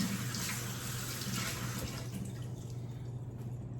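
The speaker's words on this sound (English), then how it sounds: "Let me just rinse this off so we don't get purple in our green." A cake decorating tool is rinsed under a running water tap, giving a steady, close hiss of flowing water into a sink that continues evenly throughout without talk.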